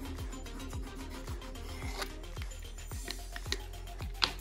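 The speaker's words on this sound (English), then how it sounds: "take my squeegee for vinyl and run it down the seam. Scrape it really good." A vinyl squeegee scrapes repeatedly down a seam of vinyl wrapped on a glass bottle, making a steady series of rhythmic rasping strokes, close and fairly quiet, with a few sharper scratches near the end.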